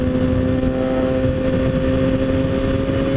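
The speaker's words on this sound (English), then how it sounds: "Nice little Honda CBR." A Honda CBR sport motorcycle passes close by with a steady, loud engine drone carrying clear engine-order tones. The sound is heard from a riding motorcycle amid heavy wind noise.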